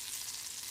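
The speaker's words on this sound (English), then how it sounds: "The oil is sizzling." Chicken frying in oil in a pan, a steady bright sizzle heard up close and alone for a brief moment.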